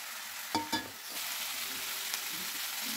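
Three or four chopped green chillies hit a pan of softened vegetables and fry with a constant close sizzle. A couple of quick clatters sound near the start, then the hiss carries on evenly.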